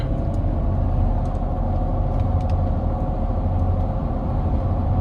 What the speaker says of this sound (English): Now the tires are very loud here with these aftermarket tires, aftermarket wheels, the lift.